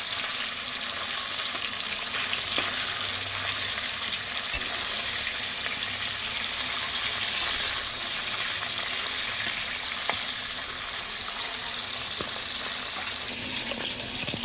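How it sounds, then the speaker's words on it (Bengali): Steady, gentle frying sizzle of fish in a pan, continuous crackle with faint clinks of stirring, no voices. "দেখো আমি কিন্তু হালকা করেই ভাজছি"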